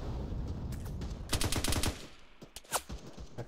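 Close, rapid bursts of machine gun fire ring out in a video game combat scene against an armored vehicle, several short volleys rattling over a low background rumble, with scattered single shots after.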